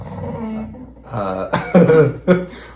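A dog whines and grumbles in short, throaty bursts, fairly close and loud, rising into a few sharper yelps toward the end.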